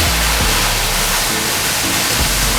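White wine poured into a hot stainless steel pan hits with a loud, dense, continuous sizzle that stays strong and close throughout, with no talk.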